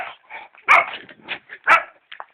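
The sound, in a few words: dog barking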